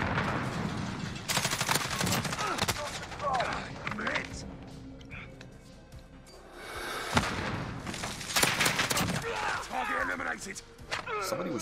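Gunfire in Call of Duty Modern Warfare, with G36C rifle bursts and rapid automatic shots crackling in dense clusters amid thuds and booms, plus voices in the game mix.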